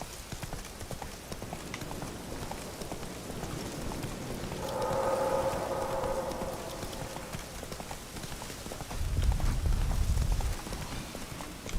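Hooves of the horse Roach clip-clop steadily through The Witcher 3 as it gallops across Velen, a continuous rhythmic beat under a brief tonal swell and a low thump near the end.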